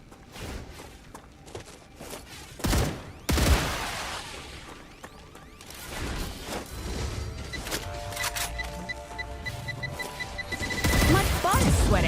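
Scattered gunfire crackles in Star Rupture, with sharp bursts and a heavier volley mid-clip, intermittent and fairly close, mixed with footsteps and other game noise.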